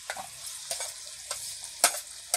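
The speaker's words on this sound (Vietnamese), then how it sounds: "Sau đó mình cho lên chảo dầu nóng." Thinly sliced tofu sizzles in a pan of hot oil over high heat, with crackling frying bursts and several sharp stirring scrapes at irregular intervals, close and clear with no talking.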